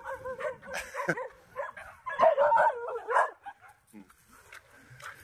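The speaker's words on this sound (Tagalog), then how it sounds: "May kakagulo na mga aso." Several rescued farm dogs bark and yip excitedly in short bursts, close by, with a few whimpers as the noise dies down.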